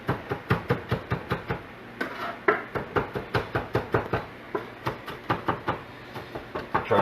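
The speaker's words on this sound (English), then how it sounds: "So he's mincing the onion finely." A knife mincing an onion finely on a cutting board, steady rapid knocks of the blade striking wood in a quick rhythmic series, close and crisp with brief pauses.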